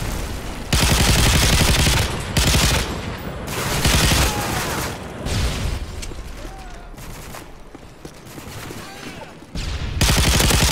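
An M60 machine gun fires in Call of Duty: Modern Warfare 3, with dense bursts of loud, rapid automatic gunfire that start and stop several times and briefly drop back to quieter game sounds in between.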